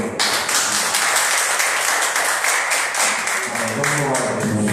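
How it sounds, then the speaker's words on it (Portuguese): Church congregation applauding during a worship service, sustained dense clapping from many hands filling the room, with a voice speaking over it. "Uma salva de palmas para o Senhor"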